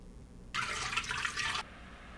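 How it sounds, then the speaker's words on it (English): Room temperature water pours into a mixing bowl while making focaccia dough, a steady splashing rush lasting about a second before stopping, close and fairly loud in an otherwise quiet kitchen. "Now we are adding some room temperature water."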